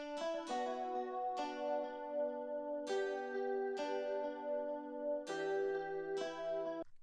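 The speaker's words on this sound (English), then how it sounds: "So together those two guitars sound like this." Two layered guitars with different tones doubling the same melody, bright plucked notes ringing out and decaying in a slow, spaced pattern, alone and fairly quiet.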